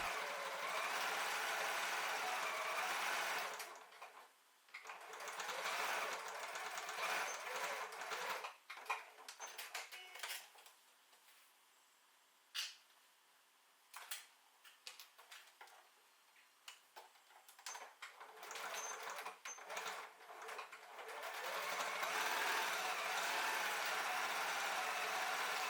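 A home sewing machine stitches pencil case panels with a fast, steady mechanical ticking. The stitching comes in bursts between quiet pauses and is heard close and alone.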